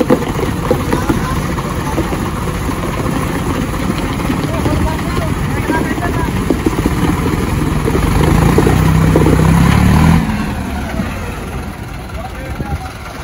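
A Sonalika DI 55 and a Farmtrac 60 tractor strain against each other in a tug-of-war, their diesel engines droning loudly, swelling to a deep heavy rumble before easing off, with voices talking over the noise.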